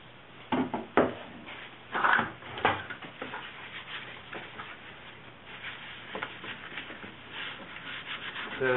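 An old instrument gauge is rubbed and cleaned by hand, giving close, steady scrubbing strokes with a few sharper knocks and scrapes early on, continuing throughout with no talk.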